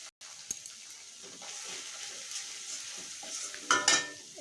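Turmeric and spices frying in hot oil in a pan for a spinach and fish curry, a steady close sizzle with stirring and a few louder crackles near the end, no talking.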